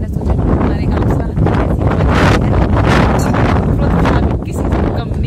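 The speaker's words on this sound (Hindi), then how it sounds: "यहाँ पे भी अभी हवा चल रही है" Strong, steady wind buffets the microphone outdoors in a Himachal Pradesh village, a loud continuous roar with gusty swells throughout.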